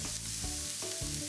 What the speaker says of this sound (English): I've got half of a white onion sizzling in my pan